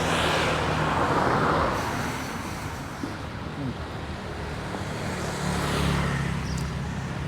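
Street traffic in the backstreets of Da Nang, with vehicles passing in waves of broad whooshing noise, one swelling early, another toward the end, heard from the roadside.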